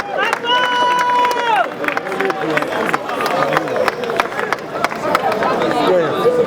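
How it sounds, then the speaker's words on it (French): A crowd at a memorial tribute for a departed artist claps hard amid cheering and babbling voices, the close, loud, uneven patter running throughout while someone sings or calls out over it. "Est-ce qu'on peut applaudir très très fort pour la carrière, pour la vie de Maman Chako?"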